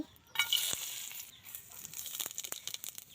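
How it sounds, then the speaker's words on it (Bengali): Egg frying in hot oil in a village kitchen, a crackling sizzle with sharp spits and pops that rises after a soft start and keeps sputtering steadily at close range. "এর জন্য প্রথমে ডিম একটু ভেজে নিচ্ছি"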